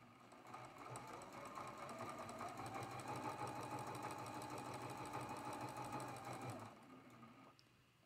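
A sewing machine runs steadily, sewing a seam on a Double V quilt block, a close, even mechanical whir that stops near the end, followed by a brief clunk.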